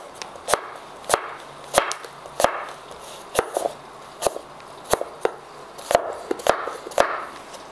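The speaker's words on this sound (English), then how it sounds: "now that we have our apples sliced" A knife slices apples thinly for slaw, about a dozen sharp, evenly spaced chops on a cutting board, close and crisp, with no talking.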